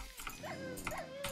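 Dogs in a modded Minecraft game: short, high whimpering yips and whines, two or three quick calls over a constant game background.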